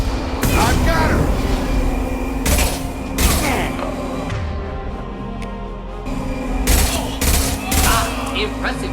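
Rapid bursts of gunfire from the video game Mass Effect 2, loud and close in several volleys separated by short pauses, over a low droning hum and game sound effects.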